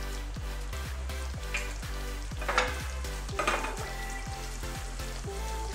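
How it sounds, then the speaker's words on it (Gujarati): Whole dried chillies sizzle in hot oil with cumin during the tempering for Punjabi kadhi pakoda, a steady loud frying hiss with a rhythmic low stirring or scraping beat throughout and a few brief louder crackles. "તો હવે આપણે 2 આખા મરચાં એડ કરીશું વઘાર માટેના"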